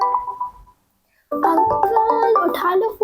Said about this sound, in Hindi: अंकल उठा लो फोन